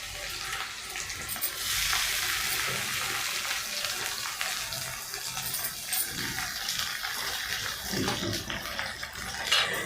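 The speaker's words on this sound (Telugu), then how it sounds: "టమోటా కూడా వేసేస్తున్నా." Tomato going into softened onions frying in a pan for stuffed brinjal curry, giving a continuous close sizzle with occasional light stirring clinks.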